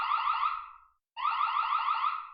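Xiaomi CW400 security camera sounding its alarm: a loud, shrill electronic warble in two bursts separated by a short silent gap, close and alone.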